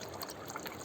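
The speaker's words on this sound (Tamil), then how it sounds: "2 பங்கு WDC கூட 6 பங்கு வந்து தண்ணியை வந்து சேர்த்துக்கிறேன்" Water being poured in to dilute waste decomposer solution, a steady soft splashing trickle close by, continuous and fairly faint throughout.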